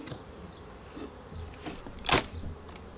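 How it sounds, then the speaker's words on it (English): Honeybees from a packed, opened hive buzz in a faint, uneven drone, with a few louder passes close to the microphone and one sharp burst midway. "God, it's jam packed with bees"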